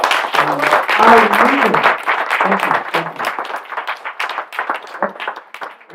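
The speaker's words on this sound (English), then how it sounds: "Special rounds of applause for the speakers" A crowd claps and cheers for the speakers at a Caribbean community event, loud dense applause that gradually thins out, with voices talking over it.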